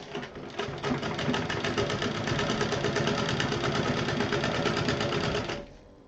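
A sewing machine runs steadily for about five seconds while stitching the border of a pillow cover, a close, continuous rapid mechanical whirr that stops abruptly near the end, with no talking.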